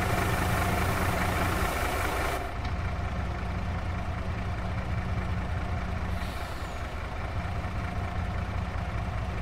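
A heavy vehicle engine runs in its lowest gear after a downshift, a loud steady low drone with a hissing release of air midway, continuing alone without voices.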